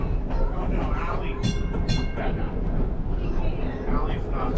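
A trolley car at a museum rolls along its rails with continuous rumbling and clattering. Voices talk over the noise.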